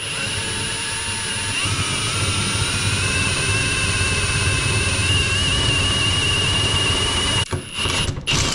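A power drill bores holes with a 1/8 inch bit and then a 3/8 inch bit, fitting bolts for a skid and wheel mod on an EGO 2110 snowblower. A loud, steady motor whine runs continuously, then ends in a few brief bumps.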